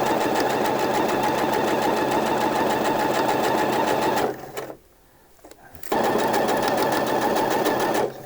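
A sewing machine runs steadily while stitching a pocket seam on drawstring shorts, a loud continuous whir that stops for about a second and a half midway, then resumes at full speed.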